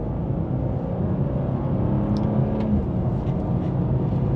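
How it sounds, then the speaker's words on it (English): A 2025 BMW M2 in drive mode pulls hard, its engine rumbling steadily and revving up close inside the cabin, with a continuous low drone and no pauses. "as we accelerate, it's going to let it rev out just a little bit more"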